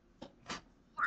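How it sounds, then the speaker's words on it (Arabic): A cat gives a few short, faint meows spaced apart, ending on a clearer, higher meow, heard alone in a quiet setting as an English vocabulary listening example. "Number eight, cat."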